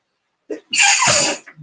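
A single loud sneeze bursts out close by after a short intake of breath, followed by faint breathing.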